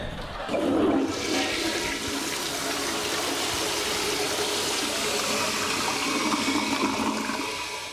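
A toilet flushing in one continuous rush of water, with a sharp onset near the start, then a steady loud swirl and gurgle that holds for several seconds. No one speaks over it.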